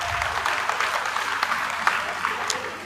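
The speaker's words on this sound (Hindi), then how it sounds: "उनके लिए जोरदार तालियों की आवाज।" A crowd at a political rally in Haryana claps loudly, a thick continuous patter with a few sharper individual claps standing out near the end.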